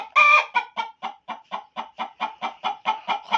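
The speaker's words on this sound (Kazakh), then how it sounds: "Ой, достар, қара тауығым туып жатыр. Қоқылдап жатыр." A black hen laying an egg clucks close by in a steady series of about a dozen sharp, evenly spaced clucks, starting with a louder drawn-out squawk, with no talking.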